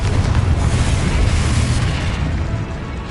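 Confringo fire spell blast in the video game Hogwarts Legacy, a loud, sustained rumbling explosion with deep booming low end that fades slightly toward the end.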